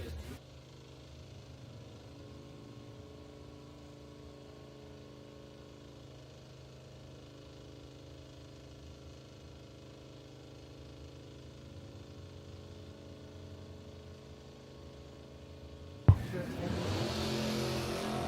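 Drag racing launch between a 1999 Chevrolet Camaro Z28 with LS1 engine and a Kia Soul at the BTE Labor Day race: a steady low engine drone with staging idle, then a sudden loud burst of revving near the end.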